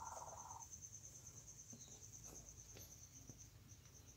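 African crickets kept in a farming pen chirp in a steady high, continuous trill, faint and even throughout, with a few soft ticks and rustles underneath.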